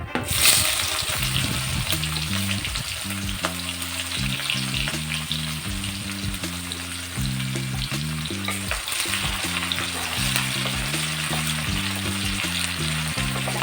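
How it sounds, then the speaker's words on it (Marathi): Chopped onion and a pinch of asafoetida frying in hot oil for a bitter gourd stir-fry, a continuous bright sizzle close by, with steady background music underneath. "तेल गरम झालेले आहे थोडस आता याच्यात थोडासा हिंग घेतलेला हिंग टाकते कोंडलेला कांदा टाकून घेते"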